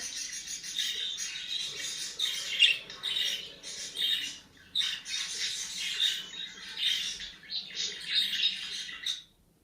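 A small albino budgerigar chirps and squawks in rapid, busy bursts, high-pitched and fairly close, with brief pauses between phrases.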